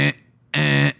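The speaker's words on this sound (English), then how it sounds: "What's like your default alarm sound?" Default phone alarm tone, a buzzing electronic beep that sounds twice, a short burst and then a longer one after a brief gap, loud and clear with no talk.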